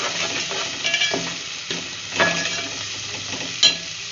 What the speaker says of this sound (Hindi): अब मैं इसमें ये मसाले डाल रही हूँ। इनको मैं भूनूंगी।